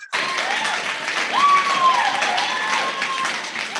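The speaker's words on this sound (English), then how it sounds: "the longer you clap, the fewer speakers we're going to get" An audience at a board meeting breaks into sustained applause, dense clapping and cheering filling the room steadily from start to finish, with a brief whistle-like tone above the crowd.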